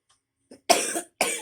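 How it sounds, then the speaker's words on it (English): A few short coughs, one faint and then two harsher ones, close and alone with no talking. "Excuse me, I do not know why I'm coughing."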